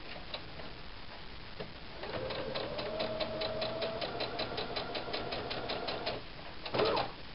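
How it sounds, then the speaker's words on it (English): Sewing machine back-stitching a small fabric bow, a quick steady run of ticking stitches lasting several seconds, moderately close, with a brief clunk near the end and no talk. "I am just going to sew it because I don't mind having the seam show"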